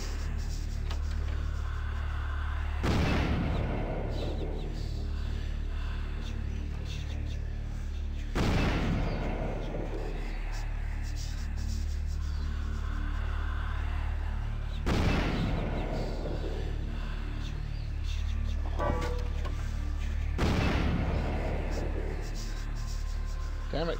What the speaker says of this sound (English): explodey man in the other room is still exploding in the other room